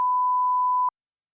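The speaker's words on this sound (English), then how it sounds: "Sorry about all those beeps." A single steady censor bleep covering a spoken name, a pure tone about nine-tenths of a second long that cuts off sharply into silence.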